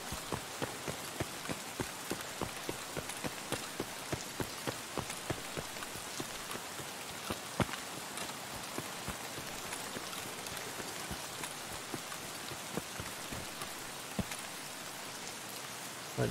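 Rain patters steadily on surfaces across a map in Escape from Tarkov, a dense even hiss with closely spaced drop ticks and no talk throughout.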